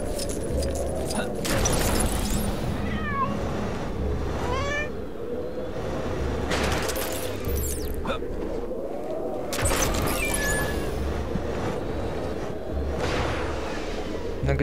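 A cat meows in the Lego Marvel Super Heroes 2 game, several short calls rising above constant game music and background effects.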